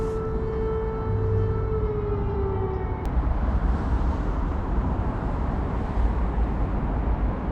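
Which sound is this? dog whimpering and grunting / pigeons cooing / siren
siren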